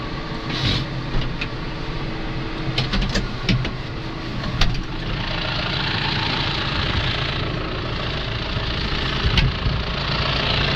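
A John Deere tractor, started after three weeks standing idle in winter, idles outdoors in snow with a low, steady engine rumble and a few sharp knocks and clicks near the start.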